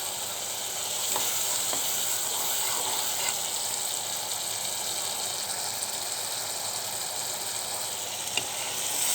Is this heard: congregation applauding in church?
no